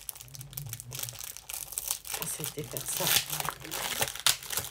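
Glued paper sheets crinkle and rustle close by as they are handled and unfolded in a scrapbooking shop, with a person speaking briefly over the noise.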